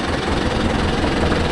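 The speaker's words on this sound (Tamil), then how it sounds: "ரொட்டேட்டர் கிளம்புது" Mahindra tractor engine as the rotavator sets off, a close, loud, steady low diesel rumble with a knocking chug and vibration, no talk over it.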